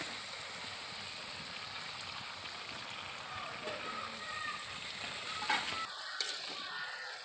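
Fuchka puris puffing up in hot oil give off a steady, close sizzle with soft bubbling and a few brief spatters, the frying running continuously until a short quieter gap near the end.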